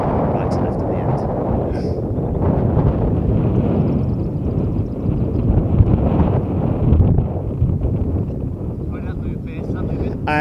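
Strong coastal wind buffets the microphone at the Royal Lytham golf course during an Open-style match. The roar is loud and continuous with gusty swells, and a voice talks briefly within it.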